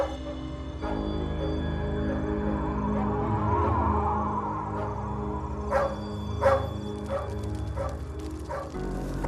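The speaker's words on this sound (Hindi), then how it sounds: "चेक तो मैंने भी किया, सब ठीक ठाक है, फिर भी ये भौंक रहा है।" A dog barks repeatedly in a Hindi crime drama, with sharp, fairly close barks and yips in the later seconds over a steady musical background score.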